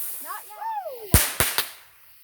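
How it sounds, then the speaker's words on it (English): A bottle rocket firework goes off as a quick string of three sharp cracks, one after another, preceded by brief high rising and falling whistles and faint voices. "Bottle rocket. Bottle rocket too."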